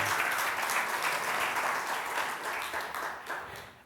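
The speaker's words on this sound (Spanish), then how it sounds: "Un aplausito para el presentador, pues," A church congregation applauds the presenter at a sermon service, a dense burst of many hands clapping that slowly fades over a few seconds, with a voice faintly audible underneath.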